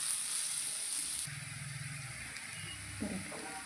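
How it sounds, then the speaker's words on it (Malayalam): Onions sauté in a pan for Kerala-style egg roast, giving a steady, soft hiss and sizzle with a few faint clinks near the end. "ഇപ്പോൾ കണ്ടോ, നമ്മുടെ സവോളയൊക്കെ നന്നായിട്ട് വഴന്ന് കളറൊക്കെ മാറി വന്നിട്ടുണ്ട്"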